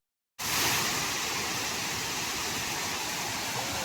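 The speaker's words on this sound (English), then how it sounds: "Look at this waterfall, but it's a fountain." A fountain's water pours and splashes steadily in Chicago, heard from a boat on an architecture tour, a loud continuous rushing hiss that starts abruptly and carries on alone without talk.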